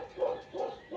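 A dog gives three short barks in quick succession, moderately faint and alone.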